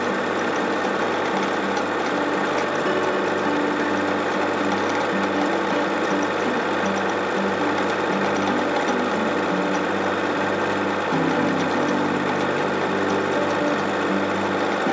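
A sewing machine hums and stitches steadily around the outline of a vegetable appliqué, a continuous close, loud mechanical whir with no pauses and no voices.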